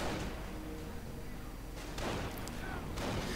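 An MG42 machine gun firing in a WWII strategy video game, a continuous harsh rattle of gunfire with dull booms rising over it, steady and fairly loud.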